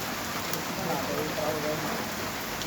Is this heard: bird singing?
no